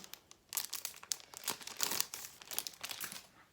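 Packaging for a Kindle Paperwhite e-reader is pulled open, with close crinkling and rustling of paper and plastic in irregular bursts, quiet but clear, with no talking.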